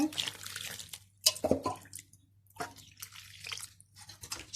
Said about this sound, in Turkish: Sonrasında ılık suyumu unumun üzerine döküyorum